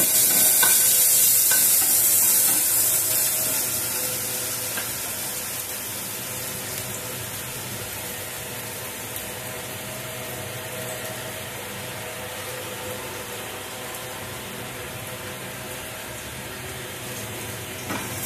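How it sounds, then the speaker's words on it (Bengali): Garlic frying in butter for butter garlic chicken, a steady close sizzle with stirring that is loudest at the start and then settles into an even hiss, with no voices. "রসুনটা ভাজা হয়ে এসছে।"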